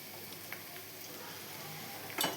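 Kidney beans (rajma) with a little turmeric sizzle faintly and steadily as they roast in a pan, with a brief louder scrape near the end.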